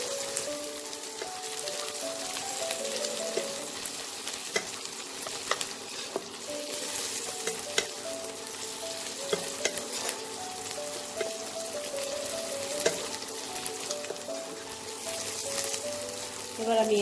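Chopped tomato and onion fry in a kadai for a green peas curry, a dense continuous sizzle with scraping stirs and spatula taps throughout, close and steady, with no talking.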